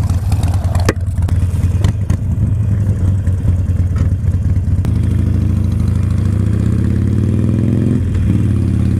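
A 2011 Harley-Davidson Sportster 48 motorcycle engine rumbles loudly and close, with deep low-pitched throbbing and a few sharp clacks, then revs as the bike rides off toward the end.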